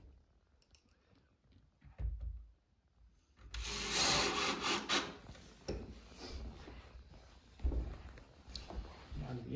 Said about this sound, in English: Just install the screws there as well.